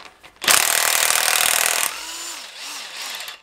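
A power tool whirs loudly for about a second and a half on a Honda K20 engine teardown, loosening cylinder head bolts, then winds down into a fading whine with faint clinks.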